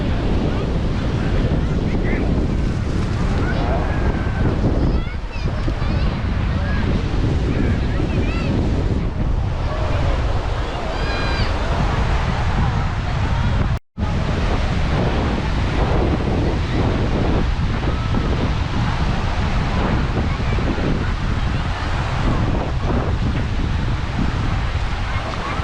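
Ocean surf rolls steadily onto Playa Santa Maria beach in Cadiz, Spain, a continuous broadband wash of waves mixed with wind buffeting the microphone, with a busy beach atmosphere and a brief dropout midway.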